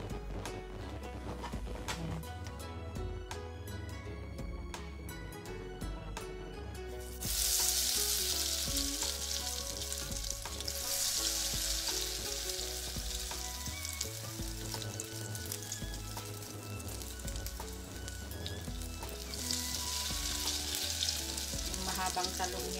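Eggplant (talong) tempura frying in hot oil, a steady bubbling sizzle that turns louder and brighter partway through as pieces are dropped in, continuing at close range with no talk over it.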